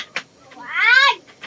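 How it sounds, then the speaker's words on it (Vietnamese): A cat on a Vietnamese village farm gives one clear, rising and falling meow close by, with short bits of sound around it. "Ở đây mèo."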